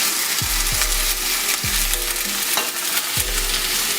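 Artichoke hearts and sun-dried tomatoes hit a pan of frying garlic, giving a steady close sizzle broken by several scraping stirs and utensil knocks, with no talking.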